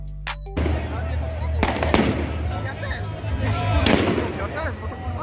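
New Year's Eve fireworks bursting outdoors, a few sharp pops followed by deeper booming blasts and crackle, with people chattering and calling out nearby throughout.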